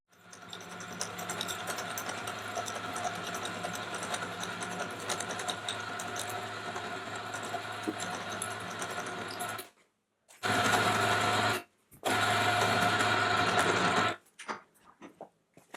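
A milling cutter plunges about 13.5 millimetres into a small metal workpiece to form a slot for a lathe centre height gauge. It makes a steady, fairly quiet mechanical hum with a fine rattle, then cuts off and restarts in short bursts.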